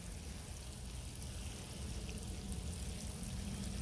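Diluted fish fertilizer water poured onto a tomato plant in garden soil makes a steady, soft rushing pour that grows slightly fuller toward the end, close but fairly quiet with no talking.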